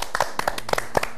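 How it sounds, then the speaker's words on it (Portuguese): A short burst of lively clapping and applause from a radio or TV studio audience welcoming a teenage phone caller onto the show, crisp individual claps close by, with faint speech mixed in. "Com muito entusiasmo e com forte aplauso."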